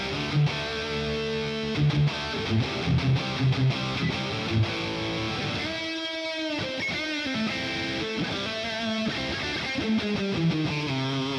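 Harley Benton TE-52 electric guitar in the middle pickup position, played as a steady run of clean chords and picked notes, close and moderately loud, with a short pause around the middle before playing resumes.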